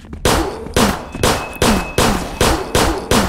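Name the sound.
gunshots in video game Zompiercer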